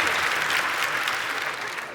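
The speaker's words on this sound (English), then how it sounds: "So a round of applause." Dense audience applause fills a panel discussion hall at the Emmanuel Centre, steady and even for a couple of seconds as a broad wash of clapping.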